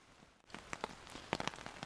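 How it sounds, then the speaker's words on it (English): Scattered drops of rain from a rainforest canopy pattering onto a taut tent fly nearby, irregular taps over a quiet damp background in the New Zealand wilderness. "listening to the rain drip off the rainforest canopy onto the fly"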